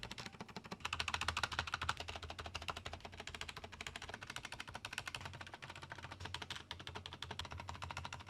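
Rapid, dense keystrokes on a black Cherry MX Board 2.0S office keyboard with silent red switches, a steady close-up patter of clicks running throughout with no talking.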